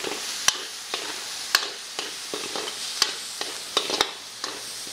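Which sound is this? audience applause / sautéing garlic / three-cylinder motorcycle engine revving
sautéing garlic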